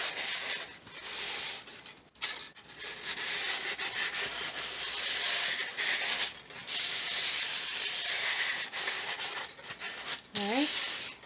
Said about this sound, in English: Take off the excess with the dry part of the towel.